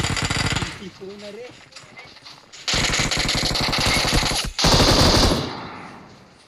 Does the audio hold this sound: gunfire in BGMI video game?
yes